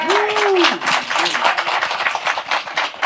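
Audience applause at a motivational talk on reconciliation and connection, broad dense clapping throughout with a voice speaking over it at the start.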